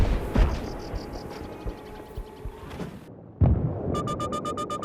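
In-game explosion from Battlefield 3 Armored Kill mobile artillery play: a few sharp low booms and blasts, loud and close, amid a rumbling battlefield with beeping electronic tones near the end.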